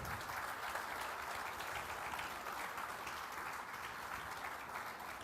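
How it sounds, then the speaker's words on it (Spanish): A church congregation applauds during a Spanish-language sermon, giving a dense, steady round of clapping that holds evenly for the whole stretch, fairly distant and soft, with no voices rising above it. "Vamos a dar un aplauso fuerte a nuestro Padre."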